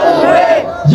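A crowd at a religious gathering roars a takbir response in unison, a loud, brief collective shout that fades, followed by the start of another voice.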